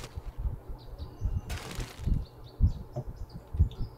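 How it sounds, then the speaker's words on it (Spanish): Birds in the woods of 7 Days to Die chirp in short repeated high calls, faint over low thumping footsteps and a brief rustling burst. "Qué bonitos son los sonidos de los pajaritos, ¿no creen?"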